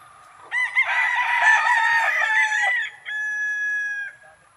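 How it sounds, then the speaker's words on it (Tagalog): Gamefowl roosters on a farm crow loudly and close by, one long strained crow followed by a second, cleaner crow, with no talking. "Mga garitong manok."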